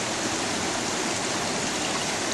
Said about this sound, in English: We're at the creek, been climbing over even more rocks